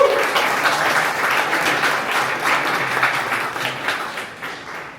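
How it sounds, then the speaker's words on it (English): Audience applause at a Berlin SaaS startup pitch event: dense, continuous clapping from a crowd that holds steady for several seconds and eases off slightly toward the end, with no talking over it. "Give them an applause."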